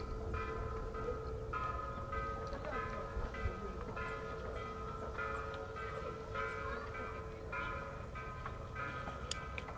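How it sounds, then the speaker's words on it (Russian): Church bells ring in a snowy winter setting, faint distant repeated tolling strikes with lingering tones over a low rumbling background of wind and traffic-like noise. "Колокола, если честно, так слышу первый раз."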